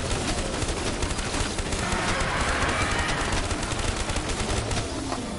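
Rapid, sustained gunfire shooting zombies in a zombies video game, a dense continuous barrage of shots throughout, loud and close, with no talking.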